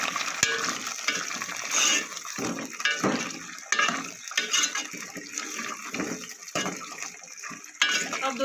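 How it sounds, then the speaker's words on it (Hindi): Potatoes tipped into a pan already holding peas and onions while making aloo matar, with clattering, stirring and wet scraping against the pan, a faint frying hiss underneath and several sharp clinks of utensil on metal. "तो साथ आलू शामिल कर देंगे।"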